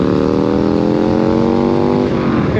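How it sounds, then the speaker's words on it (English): A Honda Africa Twin motorcycle's exhaust roars loud and close, rising steadily in pitch as the bike accelerates away, then easing off near the end. "All I can hear is my exhaust heading off there."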